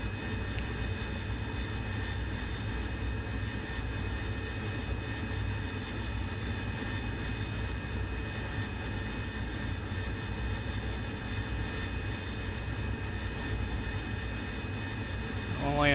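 AV-8B Harrier jet engine at high power in the DCS World flight simulator, a loud, steady roaring drone with a high whine, unbroken throughout.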